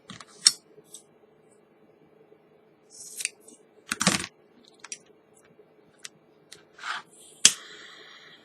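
Scissors cutting paracord strands on a stitched Solomon bracelet give several sharp, close snips and clicks, spaced irregularly with quiet gaps between them.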